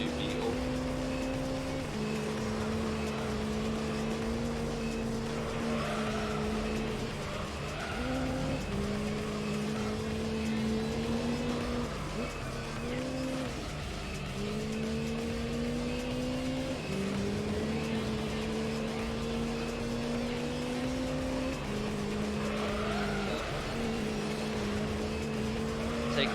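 A car engine in the racing video game Gran Turismo 3 drones steadily and loudly, its pitch climbing and dropping as gears shift, with occasional tire noise and a voice talking over it.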